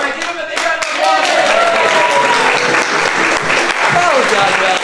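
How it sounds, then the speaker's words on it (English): Energetic audience applause at an improv comedy show, loud dense clapping with voices and whoops rising over it throughout. "give him a big round of applause"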